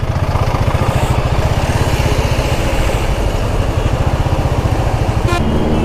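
A motorcycle rides through a highway traffic jam, its engine thumping in a fast steady pulse up close and loud, with a brief horn toot near the end.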